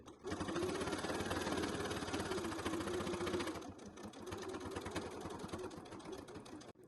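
A sewing machine stitches a curved edge of waterproof twill fabric for a scissor holder, a fast continuous mechanical whir that runs steadily, pauses briefly, then resumes more softly.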